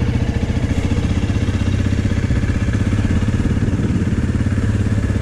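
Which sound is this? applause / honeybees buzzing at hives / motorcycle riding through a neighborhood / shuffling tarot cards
motorcycle riding through a neighborhood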